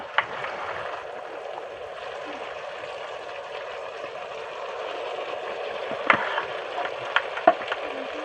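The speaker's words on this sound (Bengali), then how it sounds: "আমি এখন কড়াইয়ের মধ্যে মটন দিয়ে দিচ্ছি" Marinated mutton frying in a wok, a steady low sizzle running throughout with a few clinks of stirring near the end, fairly quiet and close.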